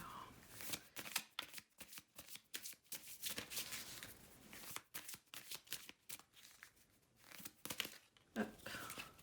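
Oracle cards are shuffled by hand in quick, crisp riffling bursts, with a series of close, papery flutters and short pauses between them, and no talking.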